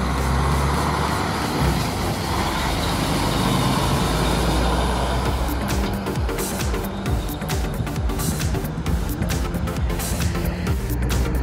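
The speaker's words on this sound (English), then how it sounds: "Container trucks are high-capacity road vehicles used to transport containers of goods everywhere in the country" Container truck, a high-capacity road vehicle carrying freight containers, rumbling steadily past at close range, a heavy continuous engine and road roar that turns rougher and busier with clattering noise partway through.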